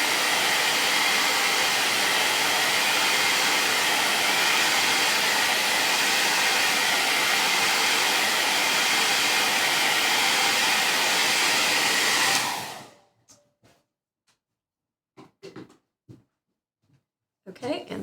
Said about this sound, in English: let's try blow drying it and see if I can still do the smear test